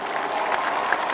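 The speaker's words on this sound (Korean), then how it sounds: "박수 주시죠." Concert crowd applauding at an outdoor autumn garden concert between a singer's songs, a brief, full burst of dense clapping at steady strength with no speech.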